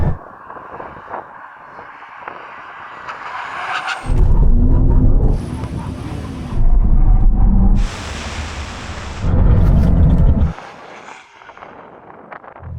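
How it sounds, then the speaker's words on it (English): A Bugatti Chiron Super Sport makes a full emergency stop, giving a loud, rough roar and rumble in three heavy surges with quieter road noise between them, heard close up without talking. "We'll reach the line, full emergency stop."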